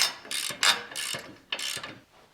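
A ratchet cinches down a hitch on a 2025 Jeep Wrangler, giving four or five close, loud bursts of rapid clicking separated by short pauses.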